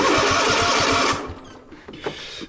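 A zero turn mower engine cranks with one cylinder not firing, a rapid rhythmic chugging for about a second that then cuts off, followed by faint clicks and rattles.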